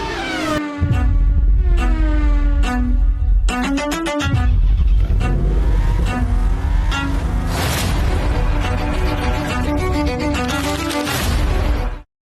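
Formula One race cars with high-pitched, screaming engines that rise and fall in pitch, loud and continuous for about twelve seconds.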